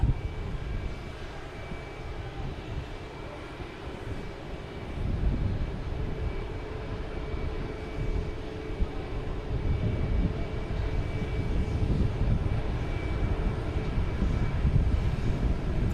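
Airplane at Boston Logan Airport, a continuous broad jet engine roar at moderate distance, swelling louder partway through and holding steady, with no talking.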